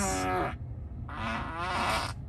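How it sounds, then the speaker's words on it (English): A Tesla Model 3/Y plays its novelty fart sound effect, two drawn-out, buzzy, moo-like blasts separated by a short gap of silence, close and moderately loud. "You can just put a fart anywhere in the car, and you can even make it fart outside."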